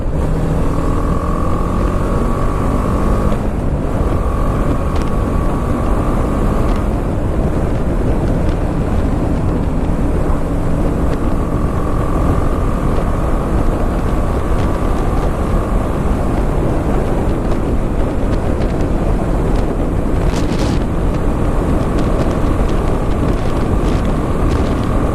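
A BMW G310 GS 300cc motorcycle on the move, its engine droning steadily under heavy wind buffeting throughout, loud and continuous with no voices.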